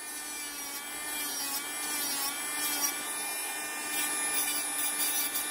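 The free edge of a fingernail is filed during a nail set application, giving a steady close whirring rasp that runs unbroken throughout.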